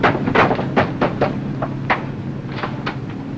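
Aboard a passenger plane in a 1947 film, people bang on a door with a rapid, irregular series of loud, close thumps and knocks, with no voices.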